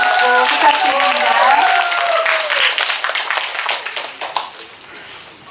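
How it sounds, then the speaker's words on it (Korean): An audience at a literary prize ceremony applauds a poet, a loud burst of clapping over a lingering musical tone that thins out and tapers off toward the end. "지리산 문학상 박미라 시인에게 다시 한번 축하의 박수 부탁드립니다."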